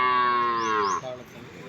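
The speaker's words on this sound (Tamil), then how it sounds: "காளைங்க. காளைங்க." A bull at a cattle market for Kangeyam cattle near Palayamkottai gives a loud, close, drawn-out moo that falls in pitch and trails off into background noise.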